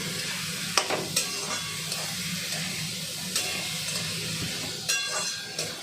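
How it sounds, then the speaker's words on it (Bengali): Vegetables (onion, beans, capsicum, carrot) sizzle in a pan while a utensil stirs and scrapes them, with steady frying hiss and a few sharper clanks, moderately close. "সবজিগুলো একটু ভাজা ভাজা করতে দিয়ে দিতে হবে।"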